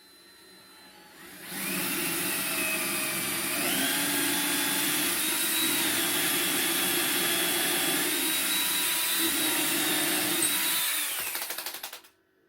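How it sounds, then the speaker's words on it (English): A power drill drilling a ported subwoofer box for an 8-inch Skar speaker whirs steadily for about ten seconds, its motor pitch rising once partway through, then spins down and stops; close and loud, no talking. "So we're going to drill these."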